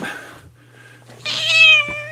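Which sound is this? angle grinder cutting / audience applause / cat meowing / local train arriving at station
cat meowing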